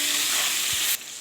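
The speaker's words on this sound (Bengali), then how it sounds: "এবার টমেটোটা দিলাম।" Chopped tomato hits onions already frying in hot oil in a pan, giving a loud hissing sizzle that drops off sharply after about a second.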